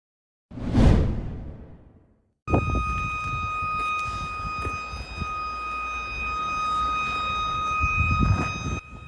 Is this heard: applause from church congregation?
no